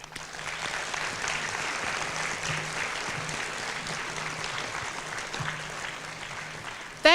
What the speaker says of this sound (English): Your teachers deserve a round of applause